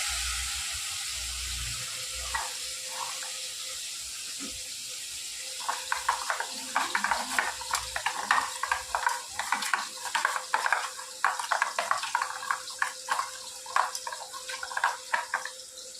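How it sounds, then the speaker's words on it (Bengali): Fish is added to hot oil and fries with a crackling, bubbling sizzle that swells midway into busy, irregular popping, heard up close with no voices. "এবার আমি মাছগুলো ছেড়ে দেবো তেলের মধ্যে"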